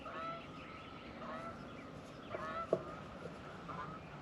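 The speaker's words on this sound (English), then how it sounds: "there's some geese flying overhead" Geese flying overhead on a farm, giving faint, distant scattered honks over a steady outdoor background hiss.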